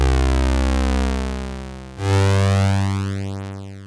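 A sustained, buzzy synthesizer tone holds, dips, then swells again with a slowly shifting, sweeping timbre, alone and fairly loud.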